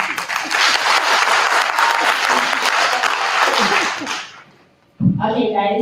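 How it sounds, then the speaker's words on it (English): Sustained, loud audience applause from a crowd at a youth roadshow event in KwaZulu-Natal, steady clapping for about four seconds that fades out, followed by a voice starting to speak. "please give yourself a big round of applause for being an amazing"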